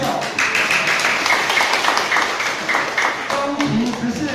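Congregation clapping inside a Presbyterian church during a Taiwanese-language service while new elders and deacons are introduced, a moderate steady patter of many hands with talk over it.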